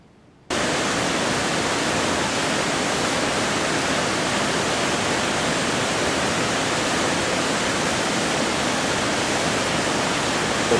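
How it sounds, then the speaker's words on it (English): Water rushes through a homemade water-powered turbine fitted with a washing machine propeller. After a brief quiet start, a loud, steady, broadband roar holds for the rest of the clip. "water hits it, and then that's what makes it turn and rotate"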